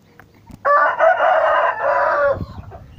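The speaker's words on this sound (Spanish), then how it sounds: "Aquí están todos los pollos, mírenlos." A rooster crows loudly and close, one long drawn-out call, with soft clucking from chickens before and after.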